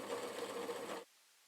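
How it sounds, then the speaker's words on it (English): A sewing machine runs a straight seam on an apron in one steady, close mechanical whir for about a second, then stops abruptly into quiet. "sewing it over, sewing just a straight seam down."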